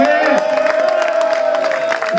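Crowd at an election rally clapping and cheering, with dense applause and shouts close by and a steady tonal hum running underneath.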